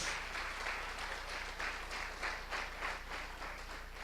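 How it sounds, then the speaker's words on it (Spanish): A church congregation applauds the Lord after a sermon, a steady mass of clapping hands filling the room throughout with a rhythmic pulse, without voices over it. "Denle un aplauso al Señor."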